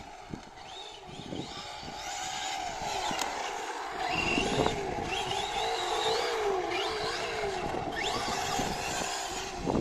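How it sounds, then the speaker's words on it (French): A Traxxas Slash RC car with a 1956 Ford F-100 body squeals and skids its small tires in repeated short bursts over a buzzing electric motor whine, the sliding chirps recurring every couple of seconds. "On entend les pneus qui couinent un peu, enfin qui glissent."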